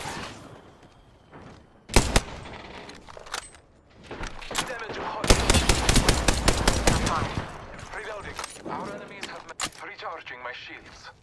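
Weapon fire in Apex Legends: sharp gunshots, then a loud rapid burst of automatic fire, followed by scattered shots, with game voice lines spoken over the action.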